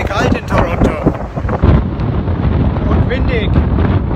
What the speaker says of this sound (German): Und windig.